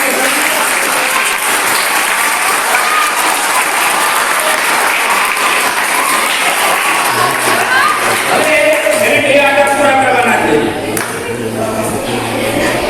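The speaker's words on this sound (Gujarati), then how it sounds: "તાળીના ગરગડાટ" Sustained applause from a room of students at a school quiz competition, dense steady clapping lasting over twelve seconds that thins slightly near the end.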